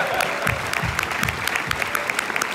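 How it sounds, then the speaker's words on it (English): An audience at a film Q&A for The Irishman applauds Joe Pesci, loud continuous clapping with a few brief voices and cheers mixed in, close and full throughout. "So they're all applauding"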